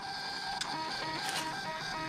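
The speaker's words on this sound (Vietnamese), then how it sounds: "Trên hệ điều hành Android á thì máy in rất là nhanh nha" A PT210 Bluetooth thermal printer prints a receipt, giving a steady, continuous buzzing whir that runs the whole time at moderate loudness, with no talking over it.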